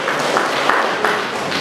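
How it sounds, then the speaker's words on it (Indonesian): An audience at an evening Islamic study gathering claps in a dense, steady burst of applause lasting under two seconds. "Tepuk tangan buat beliau."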